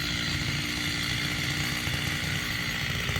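Stihl 660 chainsaw with a 36-inch bar cutting through hard oak while felling a big tree, a loud, steady high-revving engine whine held continuously close by, with no talk.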